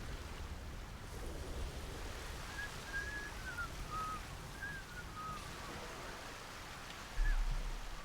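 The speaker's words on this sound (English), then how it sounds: "Is that them whistling or someone close by?" Out in Atomfall, a faint melodic whistle drifts through several short rising and falling notes over steady outdoor wind noise, somewhat distant, ending with a brief thump.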